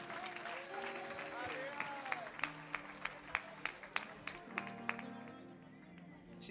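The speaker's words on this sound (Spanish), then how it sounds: "Dele un aplauso al padre." A church congregation claps in a steady rhythm during a Spanish-language sermon, the claps sounding as distinct, evenly spaced hits beneath a preacher's voice.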